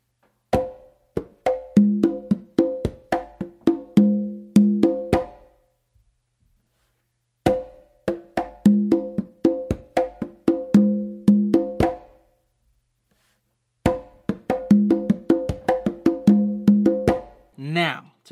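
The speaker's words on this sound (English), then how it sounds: "Now to put the whole thing together is gonna sound like this." Congas play a full samba rhythm in three repeated passes, each a few seconds long with short silences between, the drum strokes close, crisp and steady.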